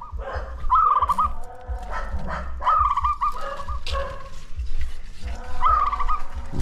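Bird calls repeat in short warbling bursts at a steady rhythm, with a loud low rumble and some handling noise underneath.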